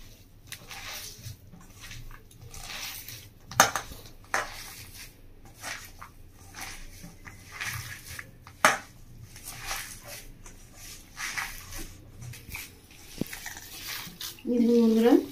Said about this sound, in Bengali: এবার ভালো করে একটু মেখে নেবো আমি